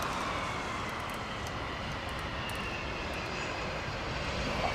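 A Boeing 767 landing in intense rain, with a steady roar of aircraft engines blended into the dense hiss of heavy rainfall, continuous and fairly close, without talk.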